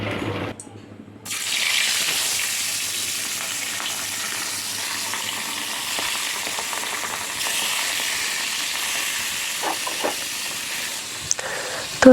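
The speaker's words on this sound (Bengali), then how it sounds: "তো একে একে মাছগুলোকেও ভেজে নিচ্ছি" Fish frying in a pan makes a continuous close sizzle with fine crackling. It starts abruptly after a quiet second and runs on evenly, with a few small clinks toward the end.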